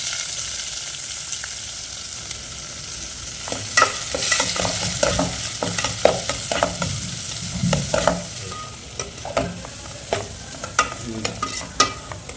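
Onions and garlic frying in a pan for fish curry, a low sizzle under repeated close scraping and clattering stirring strokes that grow busier midway, no speech.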